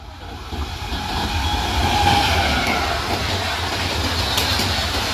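The Saraighat Superfast Express roars past Porabazar railway station at speed, a steady loud rumble and rush of wheels on rails with no voices.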